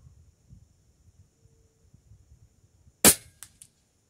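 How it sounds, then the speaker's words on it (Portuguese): A PCP M60 air rifle fires a single 25-grain slug at 60 metres: one sharp, loud crack followed by two faint distant impact ticks, with light wind rustle around it. "Eu vou dar um disparo mais abaixo"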